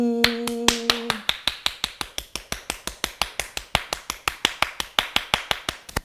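Sharp, evenly spaced hand claps ring out one after another during a healing session, close and crisp, in a steady rhythm of roughly five per second with a faint tone at the start.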